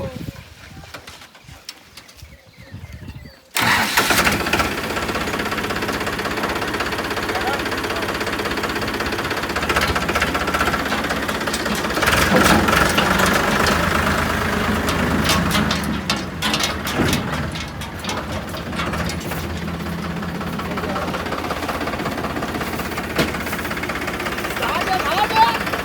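A motorbike engine starts up after a brief quiet stretch, then runs at a steady idle with a continuous rumbling, knocking texture held for over twenty seconds, fairly close and prominent with no talk over it.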